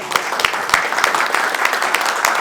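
Audience applause welcoming speakers at a New Year debate forum, steady dense clapping with a few sharp individual claps standing out, close and without talk.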